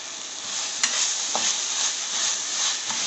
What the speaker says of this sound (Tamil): நம்ம வந்து அதில் கருவேப்பிலை போட்டுடலாம்